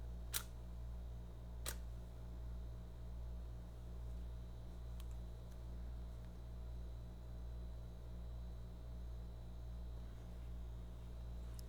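A camera shutter fires a few times in a quiet studio during a portrait shoot, sharp isolated clicks early on with fainter ones later, set against a low steady electrical hum.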